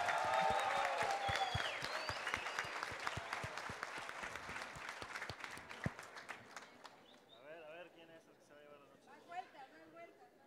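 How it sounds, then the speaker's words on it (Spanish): A crowd applauds loudly at a mass wedding ceremony in Boca del Río, dense clapping that fades after about six seconds, leaving scattered voices and chatter afterward. "es más fuerte el aplauso para quien se lleve la noche de boda"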